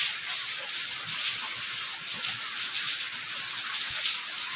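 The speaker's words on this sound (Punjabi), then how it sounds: "ਹਾਂਜੀ ਮੀਂਹ ਤਾਂ ਹਟਦਾ ਨਹੀਂਗਾ" Rain falls without pause in a steady, hissing wash that stays even and fairly close for the whole stretch, with no voices over it.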